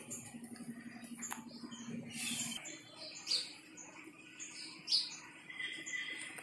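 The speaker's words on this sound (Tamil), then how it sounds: "குருவி சத்தம் கேட்குது." Several short sparrow chirps ring out at irregular moments over a steady low garden hum, moderately close and fairly quiet.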